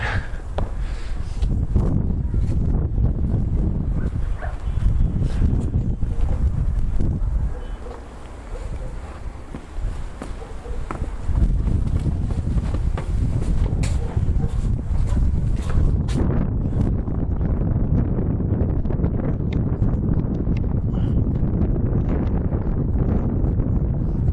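Strong wind buffets the microphone in loud, rough gusts at Mukachevo Castle, easing briefly in the middle before blowing hard again.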